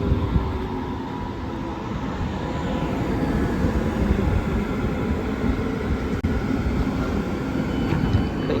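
Steady low rumble of a German S-Bahn train running alongside, a continuous broadband roar holding level throughout with no voices.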